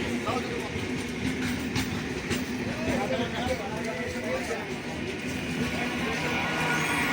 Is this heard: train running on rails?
yes